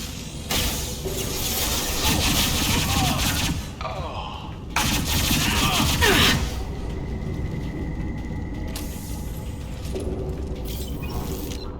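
Gunfire in the video game Mass Effect 2, sustained rapid bursts and impacts over a loud action mix, pausing briefly midway before resuming, with game voices talking over it.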